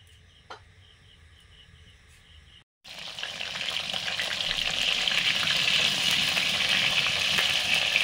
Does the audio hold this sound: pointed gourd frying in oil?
yes